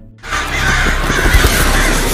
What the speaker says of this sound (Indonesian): ratusan burung gagak tiba-tiba muncul menyerang mereka